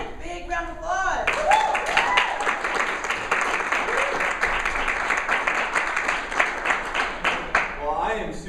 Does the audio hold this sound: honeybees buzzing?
no